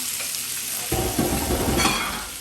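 Butter sizzling in a hot pan while being stirred, a constant bright hiss that thickens into louder crackling and scraping as the mix goes in, close and alone.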